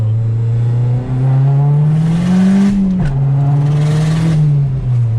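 A 400hp MazdaSpeed 3 running on E25 pulls hard in second gear, its engine close and loud with a steady rising drone, a brief dip near three seconds, then climbing again.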